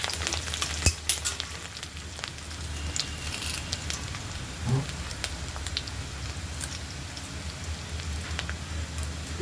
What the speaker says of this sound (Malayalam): ഇഞ്ചി ഒന്ന് മൂക്കട്ടെ.